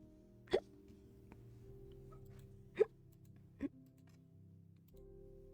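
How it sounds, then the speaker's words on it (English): Three sharp hiccups spaced out over a quiet, close-miked background in an ASMR poetry-reading setting, each a short abrupt voiced catch of breath. "Oh my god, my hiccups."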